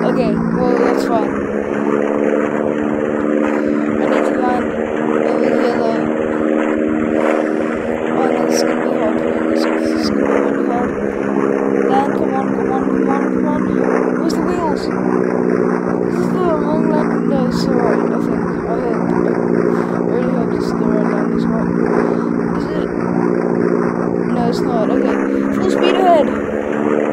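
Steady droning propeller engine of an aircraft in a Hawaii flight game, loud and continuous throughout with slight pitch shifts, while a voice talks over it.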